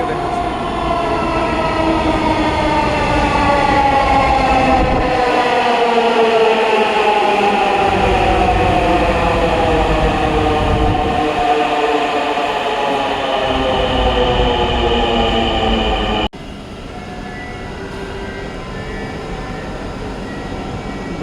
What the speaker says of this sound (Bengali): আপনারা দেখতে পাচ্ছেন যে মেট্রো রেলগুলো অলরেডি চলে আসছে।